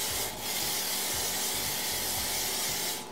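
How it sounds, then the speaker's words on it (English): Hairspray sprayed onto curled beach-wave hair, a close, continuous aerosol hiss lasting about three seconds and tapering off at the end, with no speech. "I like to put a little bit of hairspray on."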